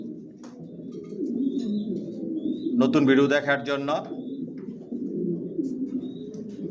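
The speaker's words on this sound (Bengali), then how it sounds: "কোয়ালিটি সম্পন্ন কবুতর পালি, কোয়ালিটি সম্পন্ন বাচ্চা রেডি করি" Racer pigeons of the Johnson line coo in a loft, low rolling calls running throughout, while someone speaks briefly over them midway.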